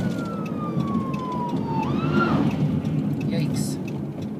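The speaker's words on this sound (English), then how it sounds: "Oh, an ambulance," An ambulance siren passes, its wailing tone sliding downward and swelling briefly as it goes by, heard at moderate distance over street noise and background voices.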